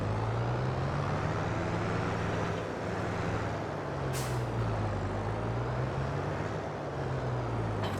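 A big used windrower drives in Farming Simulator 22, its engine a steady, fairly loud low drone that rises and falls gently in pitch, with a brief hiss near the middle.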